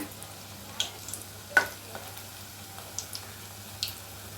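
Cauliflower 65 pieces deep frying in hot oil, a quiet bubbling sizzle with scattered small pops and spatters at close range, no voices.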